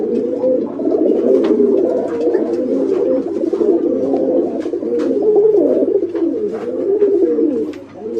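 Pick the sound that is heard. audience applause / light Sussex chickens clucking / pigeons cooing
pigeons cooing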